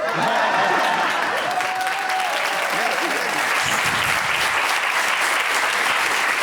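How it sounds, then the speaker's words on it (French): Sustained, loud applause from an evening show audience, a thick continuous roar of clapping with faint voices underneath, steady throughout. "Gilles Allemand est avec nous, applaudissements."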